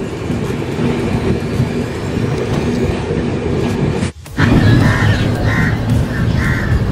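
A passenger train pulling out of Bardhaman station rumbles and clatters loudly and close, cut by a sharp whoosh and brief drop midway, with crow caws faintly audible in the background.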